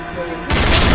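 Sudden burst of dense gunfire erupts halfway through from the Killing Floor video game, loud and continuous after a quieter opening.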